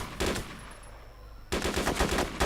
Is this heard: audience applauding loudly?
no